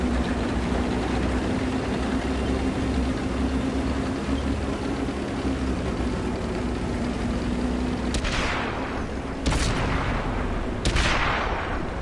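In the World of Tanks video game, a steady low engine drone runs throughout, then three sharp, loud tank cannon and artillery blasts ring out near the end, each a few seconds apart.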